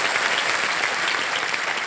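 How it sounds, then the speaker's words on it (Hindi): Loud, sustained applause from a studio audience on the KBC quiz show set, a dense wash of clapping filling the whole stretch with no voices. "बहुत जोर से ताली बजाई उन्होंने"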